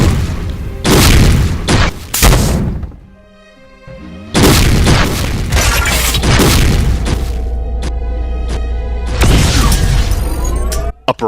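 Rapid barrage of heavy BFG blasts in a Doom mod battle against Cyberdemons, loud booming explosions stacking over each other with crackling debris, a brief lull, then another dense wave of detonations.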